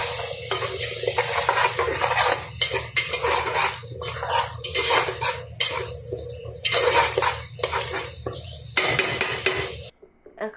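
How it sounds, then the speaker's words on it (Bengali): Spices sizzle in hot oil with ginger and a splash of water in a pan, stirred steadily with a utensil that scrapes and clinks against the metal; a continuous close frying hiss runs alone until it cuts off abruptly. "মশলাটা ভুজে দেবো"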